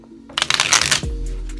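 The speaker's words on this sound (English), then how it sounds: "Let's give it one more shuffle." Tarot cards are shuffled in one quick, close riffle lasting under a second, followed by a low steady hum.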